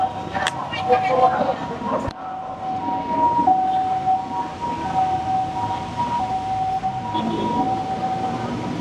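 A faint wailing ambulance siren drifts in the distance beneath street noise and passing voices, with a sharp knock partway through.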